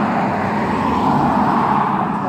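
A BMW car drives past on a city street, a steady, fairly loud broadband road roar filling the whole moment with no other sounds standing out.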